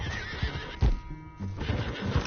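A horse lets out a loud, shrill whinny close by in the video game Red Dead Redemption 2, over rustling and a low rumble of background noise.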